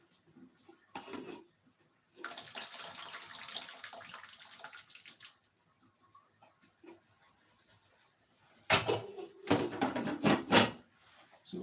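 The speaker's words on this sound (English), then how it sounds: "So I'm going to drain the water out" Boiled, softened potatoes are drained, the water pouring and splashing into a sink in several bursts, with quiet pauses and some clatter between pours.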